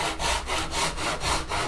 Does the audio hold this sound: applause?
no